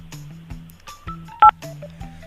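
Telephone keypad DTMF tones pressed during a radio prank call, a short series of distinct beeps at an irregular pace with one louder tone standing out, heard clearly over quiet background.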